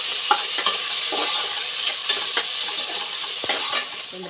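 Three onions frying and being stirred in a pan at the start of a Tamil-style chicken biryani, a steady close sizzle broken by several sharp scraping stirs, with no voices.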